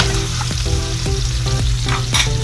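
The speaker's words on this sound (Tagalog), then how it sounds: "maglagay na tayong konting mantika para makapag-gisa na tayo. Mga katry, lagay natin yung bawang." Garlic sautéing in a little oil for seafood pancit canton sizzles loudly and close by, with clattering stirs and scrapes of a utensil against the pan.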